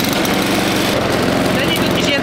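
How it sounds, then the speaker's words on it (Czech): A Honda lawn mower engine runs steadily and loudly throughout, a continuous close-up drone with a rough, pulsing low end and no pauses. "Není to jen tak nějaká sekačka"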